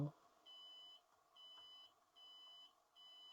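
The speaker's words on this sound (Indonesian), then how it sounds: "Jadi ini yang pakai buzzer." A buzzer on an Arduino prototype beeps four times in an even rhythm, each beep a steady, faint high tone lasting about half a second.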